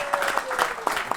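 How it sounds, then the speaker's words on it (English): An audience at a horse racing preview night applauds with scattered, uneven clapping. The burst is brief and close. "So give Dan a big round of applause."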